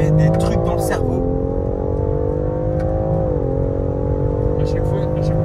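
A BMW X3 M Competition with a Stage 1 tune revs hard under acceleration, its engine note climbing then dropping twice as gears shift, loud and steady inside the cabin with people talking over it.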